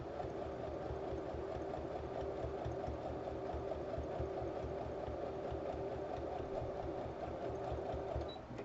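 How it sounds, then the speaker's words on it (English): A sewing machine runs on a slow stitch setting, sewing a fabric bowl cozy with a steady, continuous mechanical hum and rapid needle rhythm, close and alone for the whole stretch. "I'm a slow sewer because I put it on a slow stitch"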